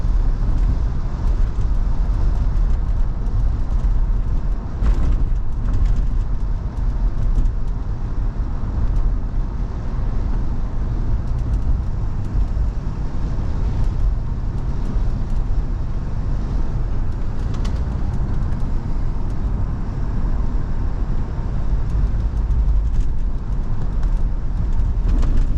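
A 1968 Chevrolet Impala driving on the road, heard from inside as a steady low rumble of engine and road noise that barely changes over the whole stretch.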